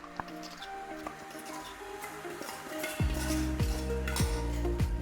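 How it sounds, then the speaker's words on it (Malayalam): Spoon stirring roasted coconut paste into a prawn theeyal curry in a pan, with soft wet squishing and scraping, a few low knocks and faint sizzle underneath, close and steady, no talk. "ഇളക്കുക."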